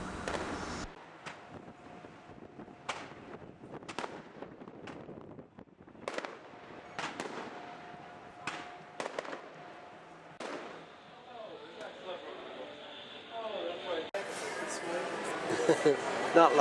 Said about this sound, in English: The outdoor parties conclude with a firework display.